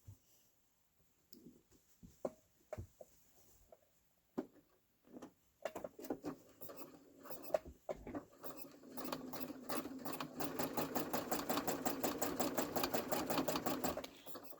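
A sewing machine stitching fabric: quiet handling clicks and rustles first, then a rapid, even mechanical chatter of stitching that builds steadily and runs continuously to the end, close and alone.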